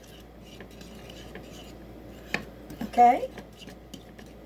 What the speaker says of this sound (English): I'm stirring because I don't have a whisk at this time.